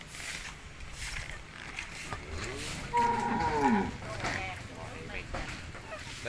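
Crossbred cattle on a Vietnamese breeding and fattening farm give a single drawn-out moo midway through, heard over a background of farm noise and faint voices.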